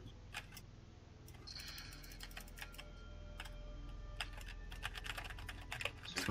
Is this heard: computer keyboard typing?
yes